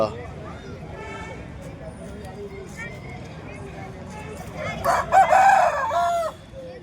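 Roosters crow loudly near the end amid a busy, noisy poultry market in Bhadradri Kothagudem, India, with people talking throughout.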